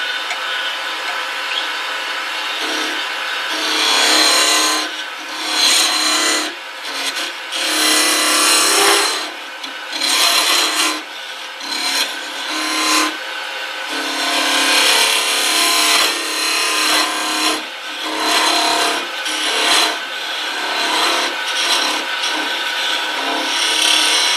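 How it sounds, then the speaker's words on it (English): A wooden pen blank has its end cut off on a wood lathe with a skew chisel. A loud, continuous whirring rasp rises and dips as the tool bites, with a few short breaks throughout. "I'll just mark this end where I'm going to cut it off."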